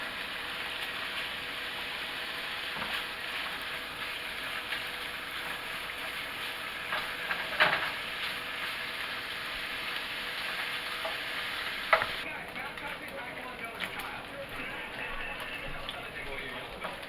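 Ingredients frying in a pan until crisp: a steady crackling sizzle sustained throughout, with occasional pops and a couple of louder knocks. Near the end it briefly turns slightly quieter and sharper.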